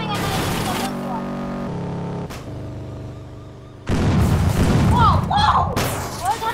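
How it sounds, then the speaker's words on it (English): A video game explosion bursts in with a loud, broad blast partway through, following earlier thuds and a sustained rumbling tone, then crackling debris and effects linger. "that explosion is so good"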